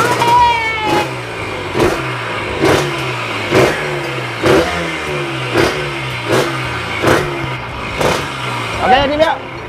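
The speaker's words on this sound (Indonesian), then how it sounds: "Dengerin ya motornya ayah." A two-stroke motorcycle engine, fitted with a drag-style setup, revs up repeatedly in sharp rhythmic bursts roughly every second, loud and close over a rough idle, with a voice talking at times.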